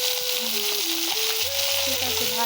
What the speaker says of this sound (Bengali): মাছগুলো ভেজে নিচ্ছে মা